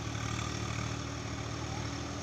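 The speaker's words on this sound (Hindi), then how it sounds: "3478 सीसी का इंजन है इसमें" A Swaraj 744 XT tractor with a 3478 cc high-torque engine and double clutch runs steadily during field puddling, a constant low, even diesel drone heard alone and fairly faint.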